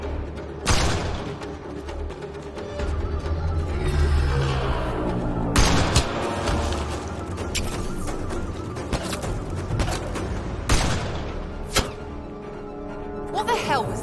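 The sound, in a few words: gunfire in the video game Mass Effect Andromeda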